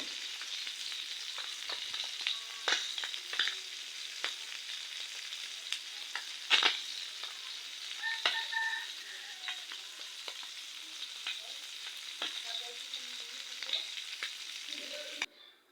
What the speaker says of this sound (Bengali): পেঁয়াজগুলো আমি এভাবে মাছের সাথে ভাজা ভাজা করে নেব